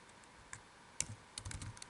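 Typing on a computer keyboard while entering values into MATLAB: a few faint, close key clicks, one sharper press, then a quick cluster of soft taps, with no voices.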